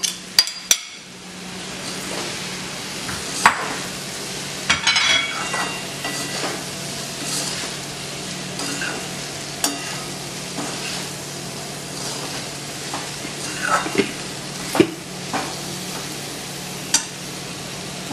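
Fried cauliflower being stirred into a pan of vegetable keema, a steady sizzle with scraping spoon strokes and a few sharp clanks against the pan, continuous and close, with no talking.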